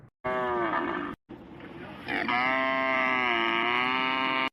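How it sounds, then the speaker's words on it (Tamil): A cow close by that is about to give birth moos loudly in two long, drawn-out calls, the first broken off briefly and the second swelling louder and holding steady to the end, with no talk over it. "ஐயோ இந்த மாடு குட்டி போடுறதுக்குள்ள இருக்கு."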